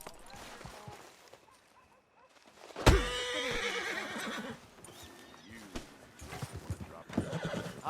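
In Red Dead Redemption 2, a loud horse whinny bursts out close by, followed by snorting and hoof clip-clops, with voices talking around it.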